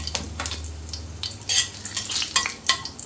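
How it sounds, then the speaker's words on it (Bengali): Bengali five-spice (panch phoron) and broken dried red chillies crackle in hot oil in a wok, with rhythmic scraping stirs and popping bursts over a low steady sizzle, close by. "আর দিলাম 2টো শুকনো লঙ্কা টুকরো করে।"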